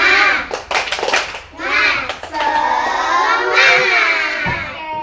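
Schoolchildren in a classroom clap in a quick rhythmic burst, then loudly chant and shout together as a group, their voices close and lively.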